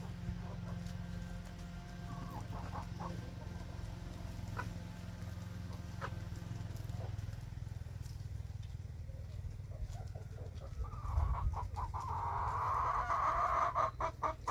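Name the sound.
chickens clucking in coop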